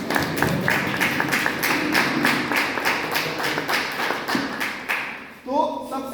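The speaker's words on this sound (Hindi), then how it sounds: "एक बार जोरदार ताली हो सकती है।" Audience clapping at a motivational seminar, a dense burst of applause that fills the first five seconds, then fades as a voice begins speaking.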